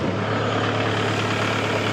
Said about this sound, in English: Now let's go ahead and get the tractor started.